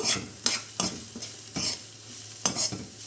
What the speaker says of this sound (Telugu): ఇప్పుడు మనం ఇందా గ్రైండ్ చేసి పెట్టుకున్న కొబ్బరి కూడా ఇందులో వేసేసుకోవాలి వేసుకుని కొంచెం కలుపుకున్న తర్వాత